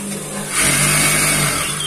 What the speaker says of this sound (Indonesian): lalu kalian coba jalankan mesinnya, apa terdengar kasar atau terdengar halus ya teman-teman